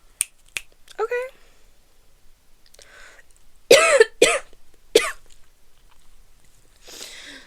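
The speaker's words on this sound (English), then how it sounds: "The cough is real." One person gives a few short, sharp coughs and throat clears, spaced out against near silence, with some small clicks and faint noises around them.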